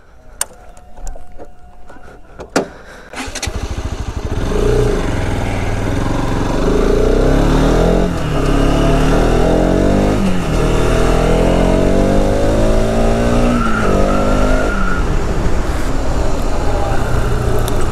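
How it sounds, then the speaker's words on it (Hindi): A new 2020 Bajaj Pulsar RS200 BS6 motorcycle starts off after a few clicks and bumps, then pulls away and accelerates through rising revs and gear changes, with a loud engine and wind roar throughout. "तो अभी बाइक चला के देखते हैं कि कैसी फील हो रही है."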